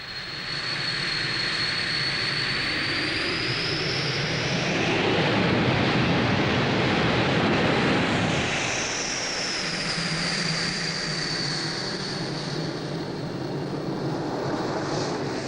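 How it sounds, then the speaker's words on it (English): Aircraft engine drone on a routine cross-country flight toward Comox in British Columbia, a steady loud roar with a whining tone that swells in the middle and rises again near the end, with no talk. "Gene is flying a routine cross-country to Comox."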